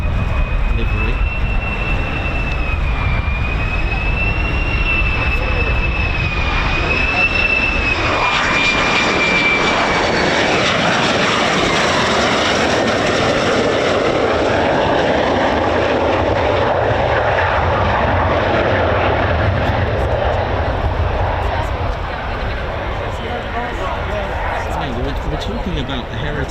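Jet fighters of the US Air Force's 48th Fighter Wing, F-15s and F-35s, roar loudly and continuously at RAF Lakenheath, with engine noise filling the air throughout and a person talking over it.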